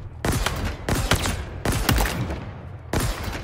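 Mangler pistol gunfire in Halo Infinite: four loud, sharp bursts of rapid shots spaced roughly evenly, close and punchy, with game ambience between them and no talking.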